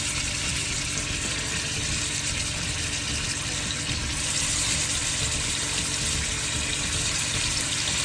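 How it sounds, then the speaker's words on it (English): A short rib piece fries in hot oil, giving a steady, dense sizzle and crackle that runs unbroken throughout and swells slightly partway through. "I just put my first piece in to check to make sure that the oil was hot"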